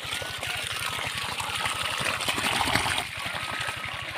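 Running water splashes steadily as hands and feet are washed in a village, a close, continuous gush with a faint regular pulsing underneath.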